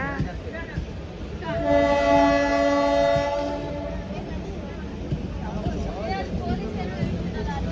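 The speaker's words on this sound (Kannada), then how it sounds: "ಅನಂತಪುರಿಂದ KSR ಬೆಂಗಳೂರಿಗೆ ಬರೋ ಮೆಮು ಎಕ್ಸ್ಪ್ರೆಸ್ ನೋಡಿ, ಇದು ಮೆಮು ಟ್ರೈನ್" A MEMU express train from Anantapur to KSR Bengaluru passes close by, its horn sounding a sustained blast over rumbling rail noise and wheel clatter.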